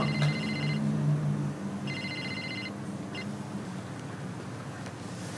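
A telephone rings in two electronic trill bursts with a short chirp after, set against a steady low rumble and hum in a television drama scene.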